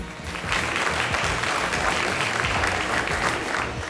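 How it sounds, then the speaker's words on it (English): A large audience at a State of the City 2024 event breaks into a sustained round of applause, loud, dense clapping that starts abruptly and holds steady for several seconds. "Let's show our appreciation by giving them a round of applause"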